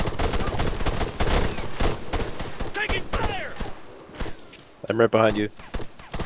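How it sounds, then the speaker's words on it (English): Rapid bursts of machine-gun fire and scattered rifle shots in a tactical shooter game fight around a church, loud and dense throughout, with brief radio-style voice chatter cutting in between volleys. "There's a machine gun fire"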